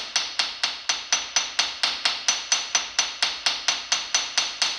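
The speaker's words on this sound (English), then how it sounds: "I'm going to peen it. And what that's basically doing is just flattening it out." Hammer peening punch marks flat on a crank: a fast, even series of about twenty light, close metallic taps, each ringing briefly, with no voices.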